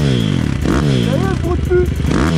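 A Kawasaki KLX 160 fitted with a two-stroke engine revs close by after a carburettor jet change, its pitch rising and falling in quick blips over a steady idle. Someone talks over the engine.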